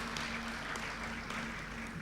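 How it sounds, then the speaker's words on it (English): Audience applause at an economic growth forum, steady broadband clapping filling the hall for two speakers after their conversation, moderately loud and continuous with no voices on top. "Big round of applause for Nicholas and Shanta"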